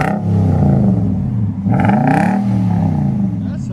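A 2011 Nissan Titan SV Texas Edition with a 5.6L V8 and Dynomax Race Bullet exhaust with a 5-inch tip rumbles at steady idle, loud and close, with a deep burbling tone and a brief rev swelling in the middle.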